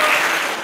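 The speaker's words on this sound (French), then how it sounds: "que je vous demande d'applaudir" Applause at an official awards ceremony for the Trophées FLIP 2015, honouring a community council president: a loud, dense burst of many hands clapping, fading slightly toward the end.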